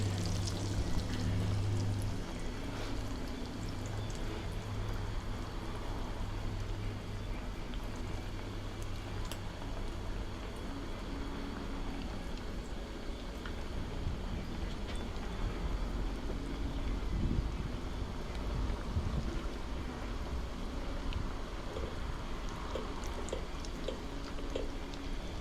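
Breaded pork tenderloin frying in about half an inch of hot canola oil, a steady broadband sizzle and crackle that runs continuously and fairly loud throughout, with no talking.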